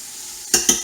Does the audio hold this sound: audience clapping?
no